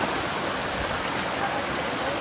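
St. Peter's waterfall in St Kitts pours in a dense, steady roar of rushing water, loud and close, with no talking.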